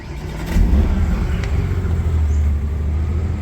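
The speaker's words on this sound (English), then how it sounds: "I'm just going to start the car" A Porsche 993 starts up in neutral, a loud low engine rumble swelling from a short cranking burst into a steady idle that stays close and continuous.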